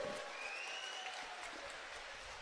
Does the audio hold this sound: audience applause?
yes